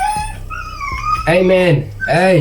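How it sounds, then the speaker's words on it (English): A dog tied up out back whimpers and whines in high, wavering drawn-out tones, fairly loud and close, with someone speaking over it. "Sorry for my dog in the background"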